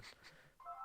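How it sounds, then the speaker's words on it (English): A mobile phone rings faintly in a quiet room, a brief steady electronic tone sounding after a few soft preceding beeps. "that's my phone. And Matt Smith's on the phone."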